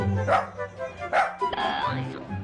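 A Turkish dog celebrating football goals gives two sharp barks in quick succession, then a higher, drawn-out whining yelp, heard close and fairly loud.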